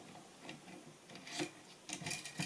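A Predator vise is tightened, giving quiet scraping, rasping turns broken by a few soft clicks and ticks, close but faint, with no talk.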